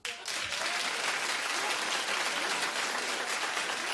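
A studio audience on a daytime talk show bursts into applause, a dense, steady wash of clapping that runs the whole few seconds with no talking.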